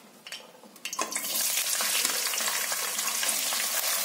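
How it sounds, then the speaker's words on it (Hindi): Green beans sizzling in a pan with mixed vegetables for a dhaba-style mixed veg dish, a loud steady fry crackle building after a quiet first second, with a few stirring scrapes and no voices. "और इसे लगभग 2 मिनट के लिए पहले फ्राई करेंगे। 2 मिनट के लिए बीन को फ्राई कर लिया है।"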